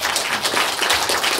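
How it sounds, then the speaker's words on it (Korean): A seminar audience at a lecture hall applauds the speakers after a panel of presentations and discussion, steady, dense clapping filling the room at moderate loudness throughout. "큰 박수로 한 번 더"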